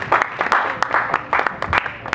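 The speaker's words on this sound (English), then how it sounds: "can we give a round of applause to them?" A school audience claps for volunteer teachers, a brief burst of scattered, moderately close hand claps without cheering.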